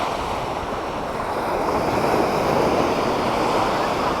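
Ocean waves washing onto North Beach near Savannah, Georgia in a continuous roar, with wind buffeting the microphone and no talking.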